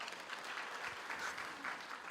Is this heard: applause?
yes